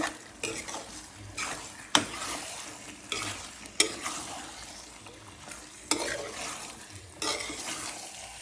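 Goat meat with whole garlic is stir-fried dry in a pot without added water: a soft sizzle under repeated spatula stirring, with sharp metallic scrapes and clinks every second or two.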